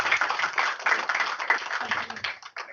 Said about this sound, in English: let's welcome Professor with a wide applause